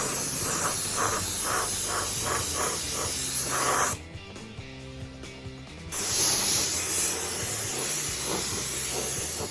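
An aerosol spray can hisses steadily and close by while a light coat of paint goes onto an RC car body, the spray cutting off for about two seconds midway before resuming.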